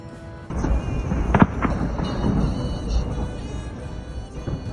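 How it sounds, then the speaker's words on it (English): A fireworks display goes off with a heavy blast and rumbling shockwave, booming and crackling continuously as people react in the background. "Some fireworks displays make people applaud, while this one only made everyone gasp."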